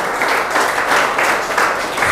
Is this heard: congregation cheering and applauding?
yes